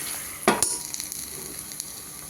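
Salted onions browning in a pan for a Kerala-style pork and plantain roast give off a soft, continuous sizzle. A louder stirring clatter comes near the start, and faint scrapes follow.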